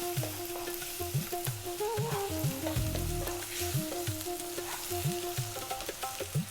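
Garlic ginger paste sizzling in a frying pan for a lamb bhuna curry, a steady crackling fry with repeated rhythmic scraping of a utensil across the pan, fairly close.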